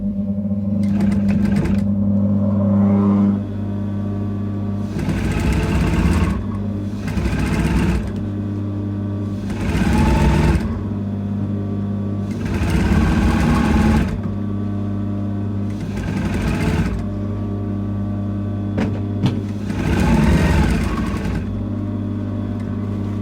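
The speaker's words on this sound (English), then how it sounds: "I'm sewing it to my lining" A sewing machine stitches a cape's lining seam in repeated bursts of a few seconds each, separated by short pauses, close and steady over a constant background hum.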